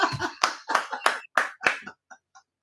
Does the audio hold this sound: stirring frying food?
no